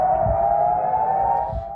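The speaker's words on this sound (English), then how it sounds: "Northern Israeli towns waking to warning sirens early Wednesday morning." A warning siren sounding over a northern Israeli town in the early morning, a loud sustained steady wail that holds one pitch throughout, alone with no voices.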